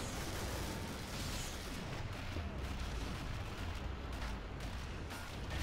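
Grenade blast amid the combat of the Killing Floor game, a dense continuous roar of explosions and shooting that fills the whole stretch at steady, loud level with no distinct individual hits.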